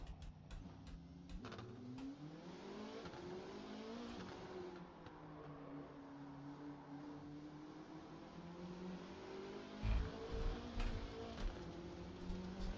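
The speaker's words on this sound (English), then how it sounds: "Okay, what's the biggest crash I can have in this thing then?" Simulated LMDH prototype race car in the racing game Rennsport, engine droning and shifting pitch steadily throughout, with sharper impact bursts near the end as the car crashes.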